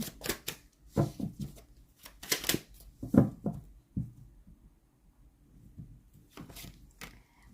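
Tarot cards are shuffled close up, with quick riffling bursts and soft slaps coming in clustered waves and then short pauses.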